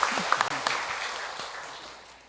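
A church congregation breaks into short applause, a few sharp claps at the start that quickly fade out.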